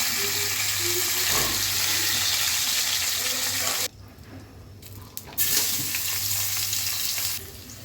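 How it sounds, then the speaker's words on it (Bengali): Fish frying in hot oil for a spiced dish, a steady close sizzle that briefly drops away, then returns as pieces are lifted from the pan. "মাছটা ভাজা হয়ে গেলে তুলে ফেলতে হবে"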